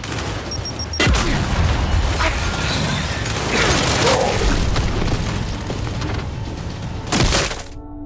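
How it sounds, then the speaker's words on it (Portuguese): A fragmentation grenade detonates in Gears 5 on Insane difficulty, a loud boom hitting at about one second, followed by rumbling debris and crackling gunfire, with a second sharp blast near the end. "Granada de fragmentação!"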